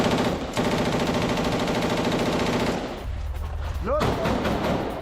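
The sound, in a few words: heavy gunfire by Israeli IDF troops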